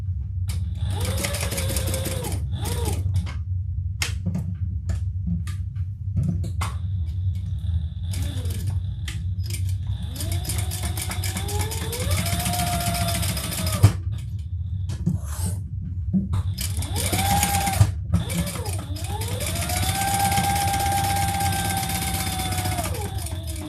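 An electric sewing machine stitches along three sides of fabric in several bursts of rapid whirring, each starting and stopping with short quiet pauses between runs, under a low steady hum.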